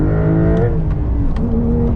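Engine of a 2023 Porsche Carrera T with manual gearbox in Sport Plus mode, revving close and loud with a rising tone that drops and settles into a steady drone.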